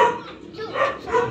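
Chickens cluck and squawk nearby in short, rough calls, with other farmyard noise mixed in.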